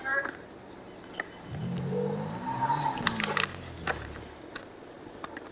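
A revving ATV engine in Grand Theft Auto V, rising and falling as it accelerates, with a tire skid and scattered impacts and clatters, heard alongside brief talk.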